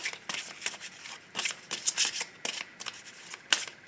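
A deck of tarot cards being shuffled by hand for a love reading, a quick series of crisp riffling bursts and soft slaps in an uneven rhythm, close and clear with no talking.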